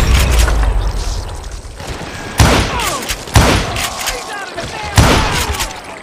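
Heavy gunfire and booming shots in the Western shooter game Call of Juarez Gunslinger, loud bursts recurring every couple of seconds over continuous in-game noise and a shouted voice.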